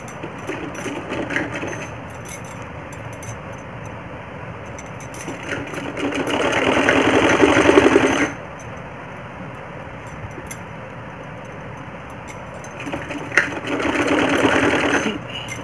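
Sewing machine stitching a frill onto the back waist section of a round-neck blouse, running in two loud bursts of steady whirring with quieter idle gaps between, close and alone.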